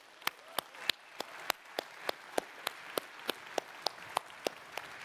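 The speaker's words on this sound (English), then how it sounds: "Big round of applause, Barcelona and friends of Xiaomi." Applause at a Xiaomi phone launch event in Barcelona, sounding as a sparse, evenly spaced series of sharp single claps, around sixteen in five seconds, fairly faint.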